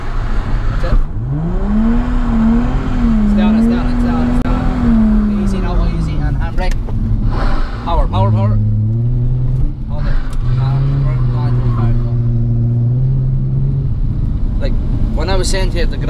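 A Nissan 350Z drifts at a drift driving event. The engine drones continuously, its pitch sweeping up and down with throttle changes, while a person talks over it.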